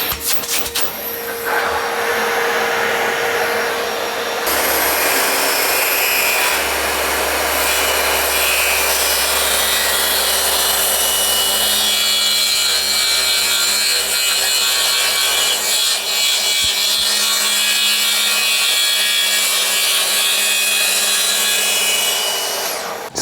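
A DeWalt 54V Flexvolt brushless cordless plunge saw cuts through oak with a steady, loud, high-pitched whine and rasping bite that holds for about twenty seconds, with a vacuum droning alongside at the start.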